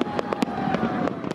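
Fireworks launched in New York to celebrate a vaccination milestone pop and crackle in a quick irregular series of sharp bursts, about eight reports over a second and a half, fairly loud against a low background hum.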